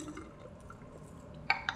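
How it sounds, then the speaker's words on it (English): Water poured out of a test tube in a chemistry lab, a short, soft liquid trickle ending in two quick glassy splashes, near and quiet. "So we pour out that water"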